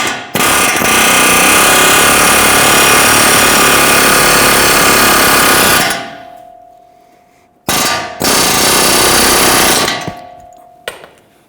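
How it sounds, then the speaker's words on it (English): Air hammer driving a front ball joint out of the steering knuckle on a 2011-2023 Dodge Charger: loud, rapid metallic hammering in a long burst, then two shorter bursts and a brief final tap, very close. "I'm going to use our air hammer and I'm going to try and push our ball joint up and out of the knuckle"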